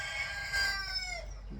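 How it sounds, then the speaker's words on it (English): A rooster crows once on a farm at chicken processing time, a loud, drawn-out call with a harmonic ring that falls off at the end, heard close by with no talking over it. "chicken over there, a rooster, sorry."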